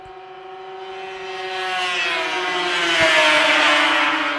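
Racing power toboggans scream along the back straightaway of a snowmobile championship track in Beausejour, Manitoba, a loud rising engine whine building as the machines approach and pass, no talk over it.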